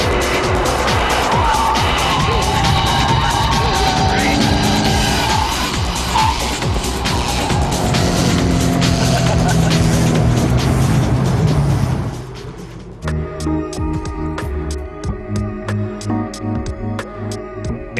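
A loud A1GP race car engine roars continuously at high revs, then cuts to sharper, rhythmic mechanical bursts, with no talking.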